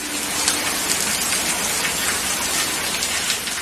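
Heavy rain falls continuously in a dense, even hiss of drops striking a surface, loud and close, with no voices.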